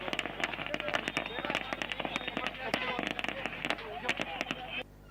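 Firecrackers bursting in celebration at Bahumali Bhavan square in Rajkot, a dense string of sharp crackling pops over a continuous roar, with voices talking underneath.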